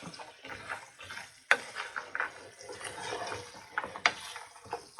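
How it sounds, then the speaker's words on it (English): Honey stirred around with nuts in a pan over turned-off heat, a spoon scraping and clinking against the pan in uneven strokes with a faint sticky sizzle, close and fairly quiet. "And just stir the honey around"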